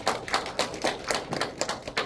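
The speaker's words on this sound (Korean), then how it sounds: "박수." Hands clapping in applause at a small poetry reading event, a steady patter of taps and slaps from a modest audience in a room, moderately loud and without speech.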